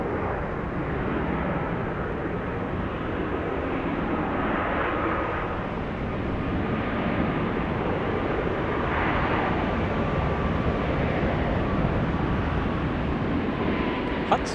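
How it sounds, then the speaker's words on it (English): An airliner roars down the runway on takeoff at Atlanta's Hartsfield-Jackson airport, its jet engines producing a steady, loud, broadband rush that holds for the whole stretch with no one speaking. "We're going to be having takeoffs for the next few minutes."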